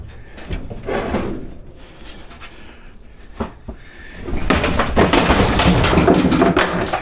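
A large air conditioner unit drops down during removal: a few quieter knocks and bumps, then a loud, sustained crashing scrape and rumble through the second half.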